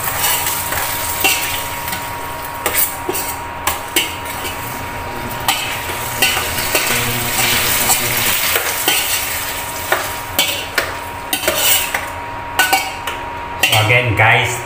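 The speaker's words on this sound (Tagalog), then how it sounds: "sabi dapat daw i-crush yung tomato. So, dudurugin ko siya habang sinusute ko." Tomato crushed with a spatula while sautéing pork menudo in a pan: repeated scraping and clinking taps against the metal over a steady sizzle, with a louder rattle of cookware near the end.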